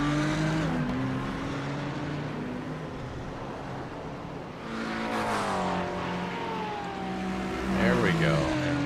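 A Lamborghini GT race car in a racing game at Suzuka, a sustained engine drone that shifts pitch as it accelerates, with other cars audible around it and a commentator talking over it.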